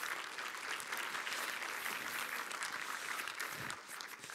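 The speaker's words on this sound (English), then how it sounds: "here in the front with Heike and Aileen, you can clap for them." A conference audience at the code.talks commerce opening in 2017 claps in a steady, dense round of applause that fills the whole stretch and fades slightly at the end.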